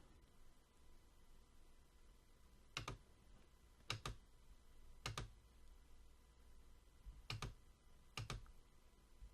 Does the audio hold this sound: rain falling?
no